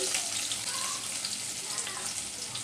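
Chopped garlic and onion fry in hot oil for a taro-stem stir-fry with dried shrimp, giving a steady, close crackling sizzle that holds evenly throughout the short stretch.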